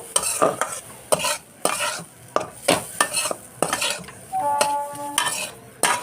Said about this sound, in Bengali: অল্প অল্প দুধ দিয়ে নাড়ব